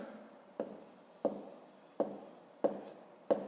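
Someone writes numbers by hand for a fifth-grade maths exercise, giving five evenly spaced taps and scratches of a pen on paper, close and quiet, with no talking.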